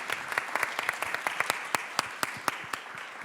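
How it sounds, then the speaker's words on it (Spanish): Scattered, light applause from a small audience at a chamber opera discussion event: a few dozen distinct claps, close and moderately loud, then thinning out. "Un aplauso para él."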